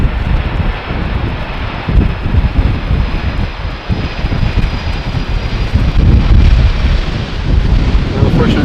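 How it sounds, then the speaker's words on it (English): An airliner lands on runway 18R at Amsterdam Schiphol in gusty crosswind, its engines a loud, rumbling roar mixed with heavy wind buffeting on the microphone, surging unevenly throughout. "Very, very nice landing, considering the weather conditions, the wind conditions I should say."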